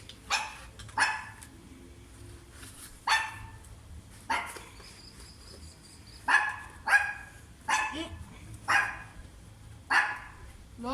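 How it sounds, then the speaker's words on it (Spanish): A dog barks outdoors near a campfire, giving about a dozen sharp barks in loose bursts spread over ten seconds, fairly close and standing out above a quiet background. "¿por qué ladras?"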